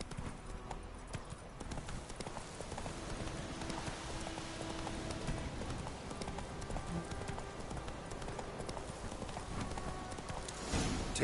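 Hooves of Geralt's horse Roach clip-clop at a steady trot in The Witcher 3, a continuous moderate rhythm beneath outdoor ambience with a faint voice over it.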